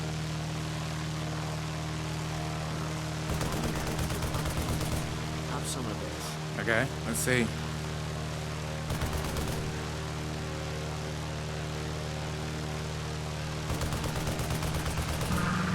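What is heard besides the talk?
fighter plane flying and firing in a video game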